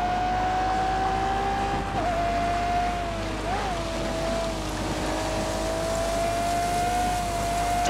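Car engine droning steadily in The Grand Tour racing game, a loud continuous hum with a couple of brief pitch blips as gears shift, no talk.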